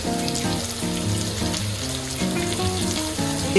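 Tender bamboo shoots fry in a pan, a steady dense sizzle and crackle running continuously at close range for several seconds, with no voices.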